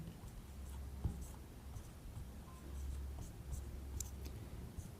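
Marker or chalk writing on a board during a vector algebra maths lesson, soft scratchy strokes in short irregular bursts over a low steady hum, close and fairly quiet.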